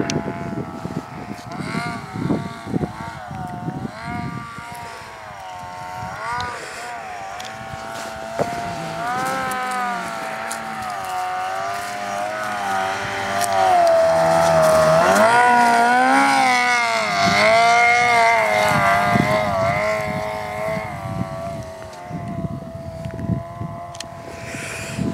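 A 2005 Yamaha RS Vector snowmobile, a 120-horsepower machine, runs in deep snow with a steady engine drone whose pitch climbs and falls as the throttle changes, rising loudest midway, with wind buffeting the microphone.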